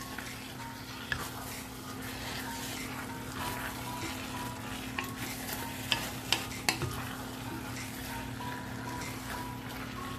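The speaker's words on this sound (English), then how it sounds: "let me give it a stir" A spoon stirs curried ground beef and potatoes in a pot, with soft scraping and a quiet sizzle under a steady low hum, plus a few sharper clinks near the end. No one speaks.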